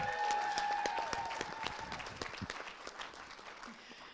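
A crowd at a Tribe Night community gathering gives Kara a round of applause. Scattered claps rise over a brief tonal hum at the start, then thin out and fade toward the end.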